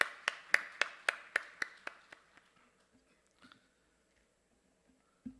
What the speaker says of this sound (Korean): 우리 하나님께 감사와 영광의 박수 올려드리도록 하겠습니다